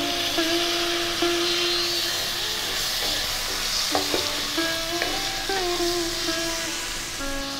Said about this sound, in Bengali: হালকা বাদামি রং ধরা অবধি ভাজতে থাকবে।